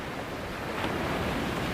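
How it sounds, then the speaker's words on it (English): Ocean surf rolls and crashes in a steady, dense wash of noise, close and constant without a break, with no voices. "These are the waves that arched and crashed, that foamed and frolicked and sprayed and splashed."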